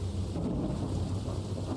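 A video game thunderstorm fills the scene with steady heavy rain and deep rumbling thunder, dense and continuous throughout, with no speech.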